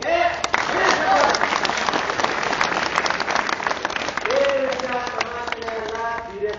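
An audience at an Independence Day speech breaks into steady, moderately loud clapping, with voices calling out over the applause near the end.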